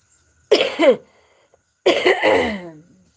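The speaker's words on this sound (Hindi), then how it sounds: "खांसी आती है थोड़ा थोड़ा।" Two bursts of coughing, close and fairly loud, separated by a short pause; the second fit is rougher and longer.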